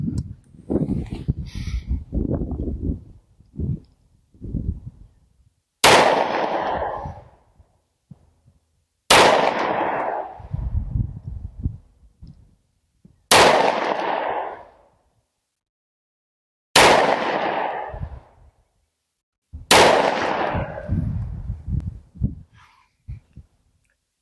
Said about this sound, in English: This is the first 1, 2, 3, 4, 5, 6 shots I shot out of the gun